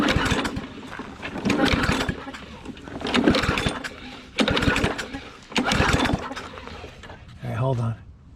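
A Yard Machine lawnmower rescued from the trash is pull-started again and again, each tug giving a short burst of coughing engine noise. The bursts come in a rough rhythm, close and loud, with a final sputter near the end.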